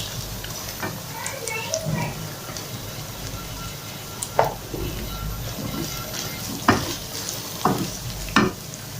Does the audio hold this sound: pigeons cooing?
no